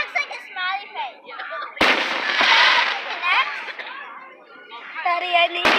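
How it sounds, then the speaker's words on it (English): Fourth of July fireworks at a Maplewood display burst and crackle in a loud central volley, with voices chattering and children talking before and after. "Maplewood 4th of July fireworks here."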